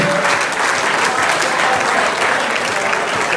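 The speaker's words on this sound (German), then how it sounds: "Applaus für mich" Dense, sustained applause from a crowd at a sports club ball, loud and continuous throughout with no break, a steady wash of many hands clapping together.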